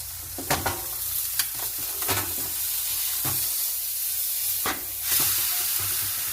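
A chuck roast sears in a hot pan with a steady, loud sizzle, broken by a few sharp clicks and scrapes as the meat is shifted, and a burst of hissing near the end.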